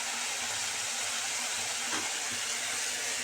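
Slit green chillies hit hot oil in a frying pan while making chilli chicken, giving a steady, close broadband sizzle with a brief stirring scrape near the middle and no voices.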